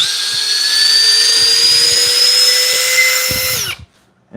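A power drill, a corded or cordless Milwaukee, DeWalt or Metabo HPT, whines steadily at low speed for several seconds with a slight pitch rise, then slows and stops, followed by near silence.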